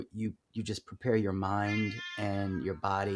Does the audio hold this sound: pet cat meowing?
yes